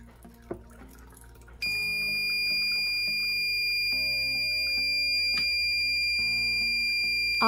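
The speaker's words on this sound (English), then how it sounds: "When the water level will cross the upper wire, then buzzer will start beeping." After a quiet start, a water overflow alarm buzzer on a BC547 NPN transistor circuit switches on as a jar fills, with a continuous high shrill tone, steady and loud, while faint water trickles underneath.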